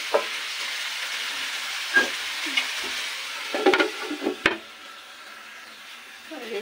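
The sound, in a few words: taki fish being cooked as bhuna in a pan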